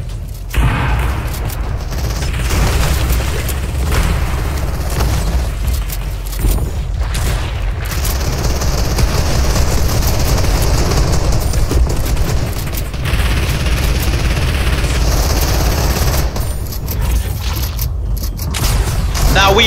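A shooter video game played on a laptop fills the scene with continuous booming explosions and bursts of gunfire, loud and dense throughout with no pauses.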